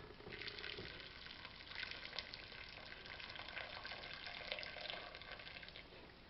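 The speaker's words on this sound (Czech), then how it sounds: "a zaleju vařící vodou z konve" Boiling water poured from a kettle into a pot of vegetables on a stove, a faint, steady watery hiss with soft splashy bursts throughout, with no talking.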